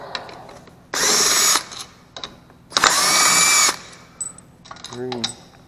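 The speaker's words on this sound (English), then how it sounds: "let's take this old pan bolts off" Two loud, close bursts of a power tool, each roughly a second long with a pause between, remove the oil pan bolts from a Honda GXV160 OHV engine, followed by faint clicks and a short mechanical rattle.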